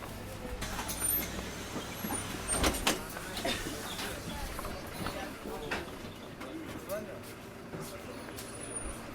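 A city bus on a night route through Nice, its steady low rumble droning inside the cabin with soft rattles, faint door and mechanical clunks, and quiet murmuring voices at a low overall level.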